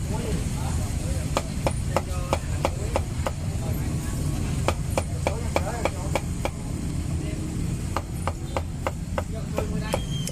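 A cleaver chops pork head skin and roasted duck at a Cambodian street food stall, with sharp, loud blows in quick irregular bursts over steady street and engine rumble while people talk nearby.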